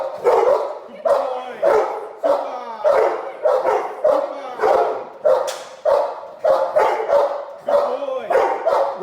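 Boerboel and Rhodesian Ridgeback dogs bark loudly and close by during residential home-invasion protection training, a steady run of about a dozen deep, forceful barks with some whimpery yips between them.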